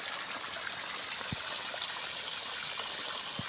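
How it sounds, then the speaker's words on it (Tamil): Water from a borewell runs onto a mango tree in a steady, close splashing stream, with a couple of brief thuds breaking the constant flow and no one speaking. "பாருங்க மாமரத்துக்கு தண்ணி பிடிக்கிறேன்"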